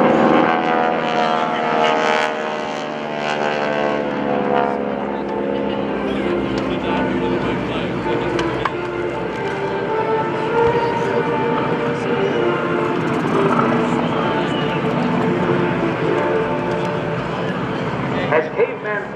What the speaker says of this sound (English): Caveman Flight will roll in for a very unique high-angle strafe.